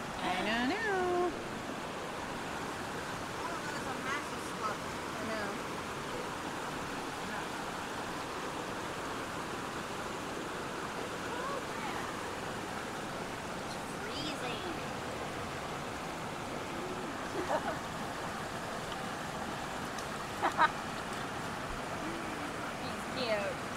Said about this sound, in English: Can you hear us with the waves and all the currents?